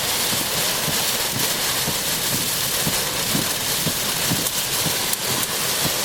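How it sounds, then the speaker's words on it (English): Heavy rain pounds on a car during a severe thunderstorm chase in central Pennsylvania, a steady loud hiss of drops with low rumbling engine and wind underneath, continuous throughout with no talking. "The rain's coming insane."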